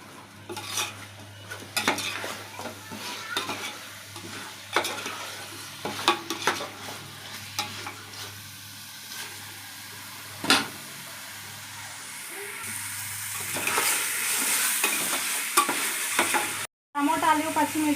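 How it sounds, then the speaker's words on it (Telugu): Chicken pieces stirred with masala in a hot frying pan for a basmati chicken biryani: steady close sizzling with repeated scraping and clinking of a spoon against the pan, growing louder and hissier near the end. "చికెన్ వేసేసుకుంటాను. బాగా మసాలా అంతా బాగా కలపాలి."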